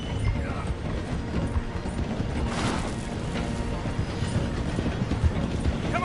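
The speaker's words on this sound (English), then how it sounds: "The train is slowing down to go through the station." A train in Red Dead Redemption 2 slows down to pass through a station, its steady mechanical clatter and rumble running throughout, with a brief hiss midway and faint rhythmic clanks.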